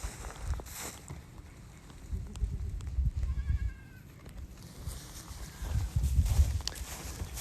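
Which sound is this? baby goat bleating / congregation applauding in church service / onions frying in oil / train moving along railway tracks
baby goat bleating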